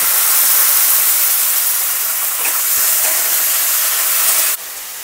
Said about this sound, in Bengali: এবার করলাটা ছেড়ে দিলাম।